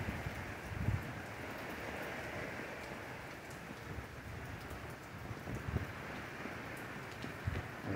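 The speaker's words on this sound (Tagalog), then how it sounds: "Malakas rin ang ulan nito." Dense, steady downpour hissing and pattering on surfaces nearby outside a store in Kanagawa, Japan, with occasional heavier thumps and low rumbling beneath the constant wash of rain.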